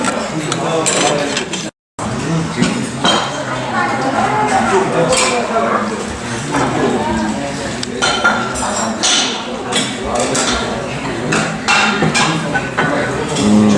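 Radish kimchi is chopped at a Korean meal, giving sharp, repeated clicks and clinks that mix with tableware clatter while people talk nearby.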